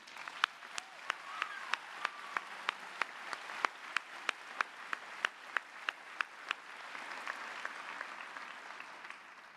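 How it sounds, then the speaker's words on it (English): A graduation audience applauds the students, a dense wash of clapping hands filling a large hall, with sharp, louder individual claps standing out in a steady rhythm near the microphone, continuing evenly throughout. "Let's give another round of applause for those students"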